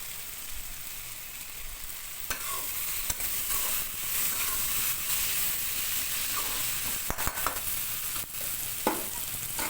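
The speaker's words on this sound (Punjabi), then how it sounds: "ਮਿਕਸ ਹੋ ਗਿਆ ਹੈ ਮਸਾਲਾ ਪਿਆਜ਼ ਵੀ ਭੁੱਜ ਗਿਆ ਟਮਾਟਰ ਹੋ ਗਏ" Onion and tomato masala frying and stirred in a pan, a steady close sizzle punctuated by scraping spoon strokes against the pan, with no talk.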